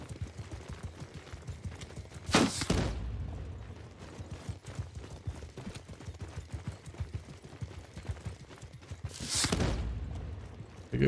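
Two loud bursts of gunfire in the game Old Realms, a few seconds apart, set over a busy bed of footsteps, clatter and combat noise.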